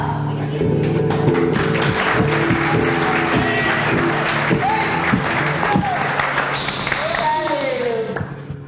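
Audience applause at a live tribute stage show, steady clapping throughout under music with sustained tones and a loud voice speaking over it.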